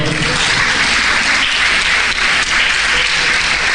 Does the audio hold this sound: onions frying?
no